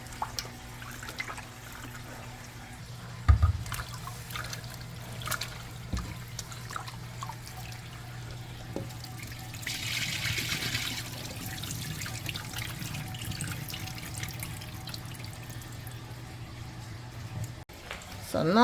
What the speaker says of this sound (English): I'm gonna use my lemon to wash it. I like to give my tripe a good wash.